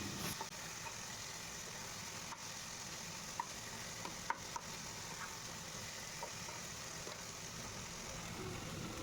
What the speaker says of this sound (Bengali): শক্ত দিকটা দিয়ে আবার পুঁই শাকটাকে একটু নেড়ে চেড়ে নিলাম